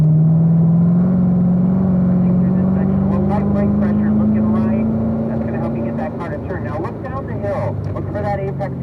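A Corvette Z06 on a race track during an owners school session holds a steady engine drone that slowly rises in pitch, then eases, with someone talking over it throughout.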